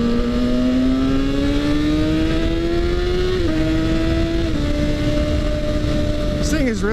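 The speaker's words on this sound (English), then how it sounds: "So now I'm on a 2012 ZX6R." A 2012 Kawasaki ZX6R motorcycle engine drones loud and close, its pitch climbing steadily, dipping at gear changes and revving sharply at the end, with speech present under the engine noise.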